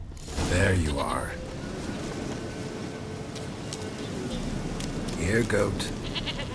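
A goat in The Witcher 3 bleats in two separate calls, one near the start and another near the end, over steady ambient game background.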